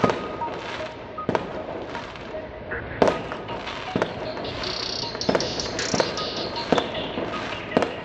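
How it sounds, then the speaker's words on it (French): Fireworks crack and pop repeatedly at uneven intervals during unrest in southern Toulouse, some sharp and near, others duller and farther, over a constant background hiss. "Il y a des feux d'artifice partout"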